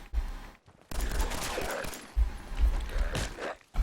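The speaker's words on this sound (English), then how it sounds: "Pistol." Pistol shots in the video game Fallout 4, a few sharp bursts separated by short gaps, with no talking over them.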